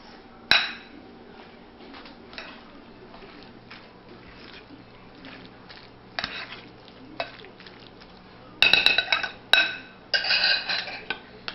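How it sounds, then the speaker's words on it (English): Spoon mixing chopped onions into guacamole in a bowl, giving scattered close clinks and scrapes that grow busier toward the end over a quiet room hum. "So I'm just going to mix."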